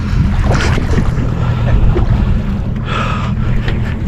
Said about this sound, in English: Going through a wave again, Colin?